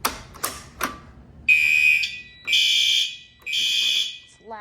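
Basement fire alarm system sounding after a pull station is pulled: a few faint spoken sounds, then three loud, steady, high-pitched electronic alarm tones in a repeating on-off pattern, fairly close.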